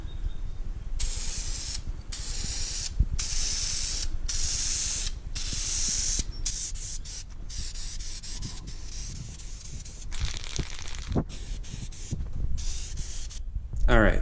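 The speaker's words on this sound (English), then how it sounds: "for the second coat, I'm gonna go in and spray this horizontally" An aerosol can of wrinkle paint hisses in several long bursts separated by short pauses, close up, with faint rattles and handling noise between sprays.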